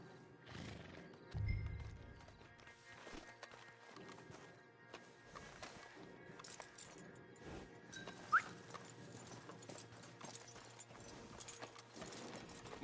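Horses in the western game Red Dead Redemption 2 whinny and snort near and far, with a loud low snort early and scattered hoof clops over a quiet outdoor background.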